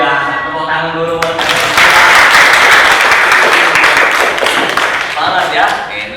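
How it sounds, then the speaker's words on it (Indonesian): A classroom audience bursts into applause, dense loud clapping from many hands that builds quickly and carries on steadily to the end, with voices mixed in. "Tepuk tangan dulu buat"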